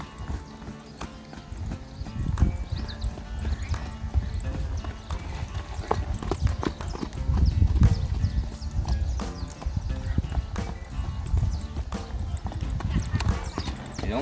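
A horse being schooled at the trot in a cross-gaited marcha keeps up a steady, rhythmic clip-clop of hooves throughout, with ongoing background noise.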